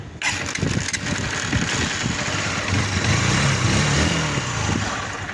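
A small engine fresh from a tune-up with valve clearance set to 0.005 sputters to life and settles into a loud, rough, rapid idle with a steady chugging rattle close by.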